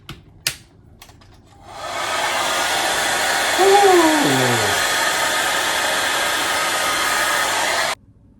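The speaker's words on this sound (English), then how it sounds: "The hairdryer does work." A hotel-room hair dryer at an Uxbridge Premier Inn switches on after a couple of clicks and blows with a steady loud whoosh for several seconds, then cuts off abruptly.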